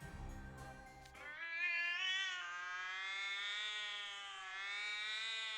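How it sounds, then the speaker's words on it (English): Cat screeching in a Halloween event video game, a long, drawn-out wailing yowl with a wavering pitch that follows a brief burst of music and holds loud and alone for several seconds. "Oh no, that's a cat."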